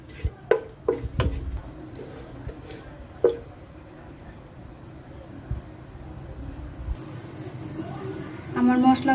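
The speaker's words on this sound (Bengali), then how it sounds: "এখন মশলাগুলো আমি একটু ভেজে নিব স্মেলটা আসা অবধি" Whole bay leaf, cinnamon stick and cloves frying in a pot for chicken polao, giving a low steady sizzle with a few sharp clinks of a spoon early on and a brief rattle at the end.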